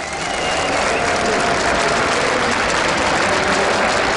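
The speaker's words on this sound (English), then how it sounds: "Give him a big round of applause." Loud, dense audience applause at the WCS Season 2 Finals esports event, a continuous roar of clapping and crowd noise held at full level from start to finish.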